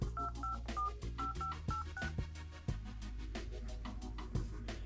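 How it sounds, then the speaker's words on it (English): On a Kingrow e-ink smartphone touchscreen, numbers are dialed as a quick string of electronic keypad tones, one short beep per digit, followed by a steady tone, close and clear. "Let's just dial some numbers on the screen and see what happens."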